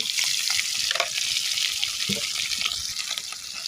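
Dried loitta fish frying in hot oil, a dense crackling sizzle with scattered pops and occasional stirring clatter, close and steady throughout.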